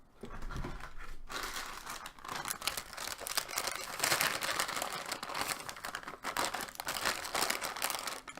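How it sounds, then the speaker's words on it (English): Close, continuous crinkling and crumpling of wrappers from a stash of cough drops, busy and irregular for several seconds with no talking. "Pardon the crumple of my cough drop stash."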